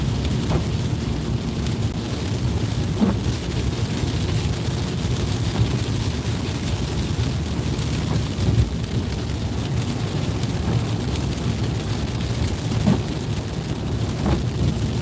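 Steady rain washes over a moving car in Florida, a constant hiss of drops on the roof and windshield over a low road rumble, with a few faint knocks, heard from inside the cabin.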